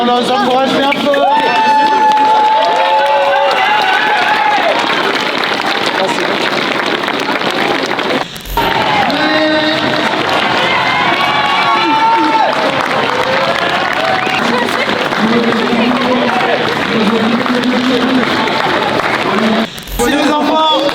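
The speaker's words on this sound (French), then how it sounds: "on les encourage bien fort" A crowd at a charity race along the Canal Saint-Martin cheers, claps and calls out encouragement to children running, a loud, dense, continuous roar with several voices shouting on top.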